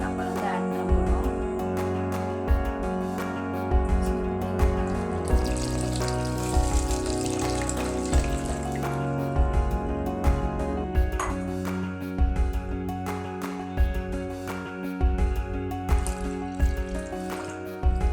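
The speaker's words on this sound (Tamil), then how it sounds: "நம்ம எடுத்து வச்சுருக்க அந்த தண்ணி தேங்காய் பால் ஆட் பண்ண போகிறோம்" Thin, watery coconut milk pours into a pan while making coconut milk agar agar, a steady liquid stream under clinks and sizzling kitchen noise that carries on throughout.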